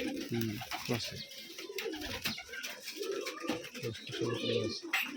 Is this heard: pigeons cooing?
yes